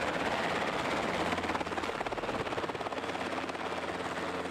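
A helicopter's rotor thuds steadily and loudly throughout, with a constant engine roar underneath.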